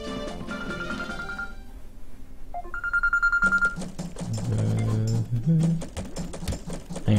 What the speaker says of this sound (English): Hang on a second, my phone's going off.